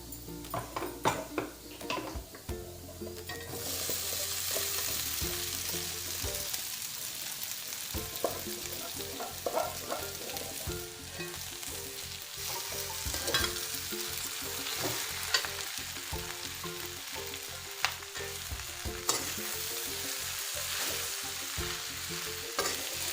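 Cooked jackfruit is stirred into a sizzling pan for a Kerala-style jackfruit curry, with repeated spoon scrapes and clinks against the pan over a constant frying hiss.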